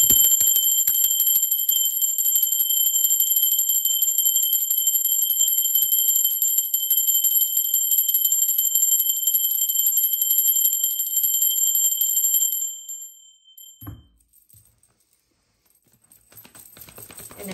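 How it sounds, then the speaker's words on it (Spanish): A sustained metallic bell tone rings continuously with bright overtones, then cuts off, followed by a soft thump and near silence. "Ahora sí, va campana."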